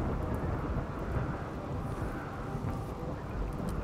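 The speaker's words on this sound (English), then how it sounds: "No, it's raining." Steady rain hisses alongside low rumbling thunder in RimWorld, a dense continuous wash of storm noise with no voices.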